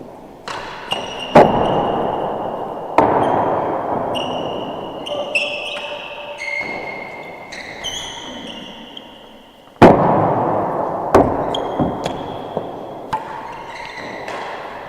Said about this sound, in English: That ball has come quick off that timbre.